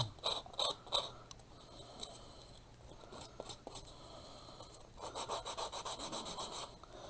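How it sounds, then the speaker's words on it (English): Sandpaper rubbing over the edges of a handmade DIY spell book, soft scratchy strokes in short bursts and a steady rhythmic run near the end, close and quiet. "That way you can get in here and sand it down."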